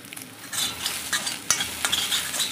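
Egg bhujia being stirred in a wok, a spatula scraping and clattering in quick irregular strokes over a soft background sizzle of frying egg, close and moderately loud with no voices.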